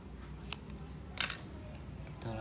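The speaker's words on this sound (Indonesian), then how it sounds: "lalu kita gunting" Scissors snipping double-sided tape, a faint snip followed by a louder, crisp cut about a second later, in a quiet room with soft background noise.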